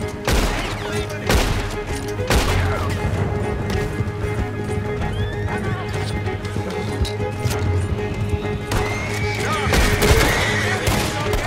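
Gunfire in Red Dead Redemption 2 during a horseback escape, with sharp shots scattered among steady hoof clatter and galloping, loud and close throughout.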